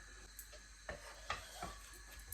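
Couscous sauce sautés in a pan over high heat. Soft sizzling runs under a few sharp clinks and scrapes of stirring utensils, spaced unevenly and heard up close.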